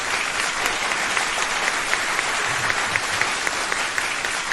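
Sustained applause from a crowd on a radio show: an even, continuous wash of many hands clapping at full strength from start to finish, with no voices on top.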